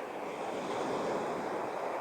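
Ocean surf rolls against the shore as a continuous, fairly loud wash of waves mixed with wind buffeting the microphone, with no voices.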